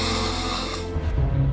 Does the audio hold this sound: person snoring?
yes